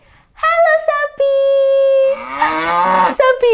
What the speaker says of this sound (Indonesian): Sapinya bersuara juga.